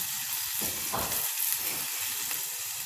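Marinated beef tenderloin sizzling in a pan on the stove, a loud, continuous frying hiss with faint scraping under it, close up and with no talk.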